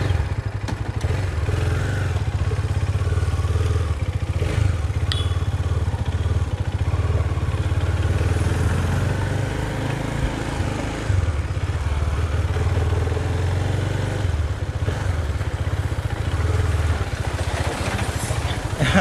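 Husqvarna Vitpilen 250 motorcycle riding through city streets, a steady mid-pitched engine drone carrying on near and loud throughout, with occasional clatter and thumps from the ride.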